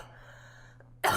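A single sharp cough bursts out at the very end, following a low steady hum and faint tonal background, during a tabletop role-playing game session.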